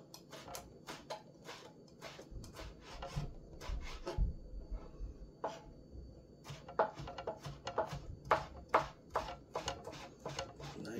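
Knife chopping breakfast ingredients on a board, a quiet irregular run of light taps and scrapes with short pauses, close and fairly soft, with faint background noise.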